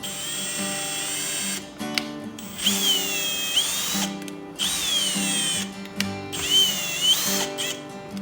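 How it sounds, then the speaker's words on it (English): A power drill runs in repeated bursts, its whine rising and falling as it speeds up and slows, with brief pauses between runs. "Let's slow the drill down."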